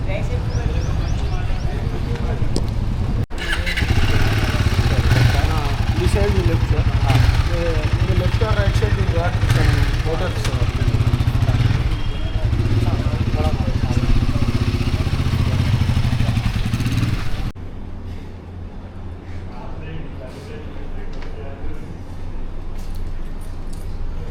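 A freshly serviced motorcycle engine runs steadily with a throbbing idle and mechanical clatter from inside the cylinder head, then cuts to a quieter, muffled engine hum toward the end.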